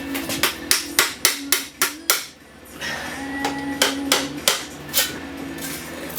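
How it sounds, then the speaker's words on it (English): A rubber mallet knocks repeatedly against the oil pan of a Saturn SW2 car to break the seal, a close series of loud regular thuds with a short pause before the blows resume. "today I'm using a rubber mallet from the dollar store and one of these big ones"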